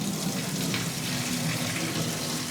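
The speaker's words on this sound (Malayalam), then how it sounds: "നന്നായി നമ്മൾ ഇതാ കൊള്ളി കഴുകിയെടുക്കണം." Cassava (tapioca) pieces being rinsed under a running kitchen tap, a steady, close, continuous gush of water splashing in a sink.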